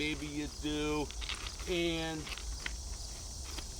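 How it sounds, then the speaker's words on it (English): Crickets chirp steadily in the background on a Monday evening by a railroad track down a country road, a faint continuous trill beneath a person talking. "You hear the beautiful crickets in the background."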